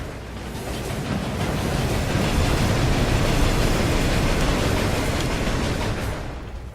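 A train roaring past in the game Murdered: Soul Suspect, a loud broadband rumble that swells in, holds for several seconds and fades away, with no talking.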